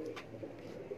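On a rooftop, pigeons make faint, low cooing calls that repeat a few times, quiet and somewhat distant, with no talking.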